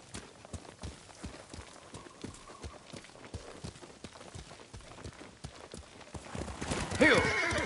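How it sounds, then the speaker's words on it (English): In the Ghost of Tsushima game, a horse's hooves clop in a quick galloping rhythm at low volume, then a louder whinny rises near the end, with a voice briefly heard. "Good horse."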